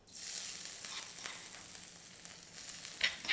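Thai curry paste hits hot vegetable oil in a wok and sizzles loudly and continuously, a bright hiss that swells and eases as it fries, with a couple of quick scraping stirs near the end.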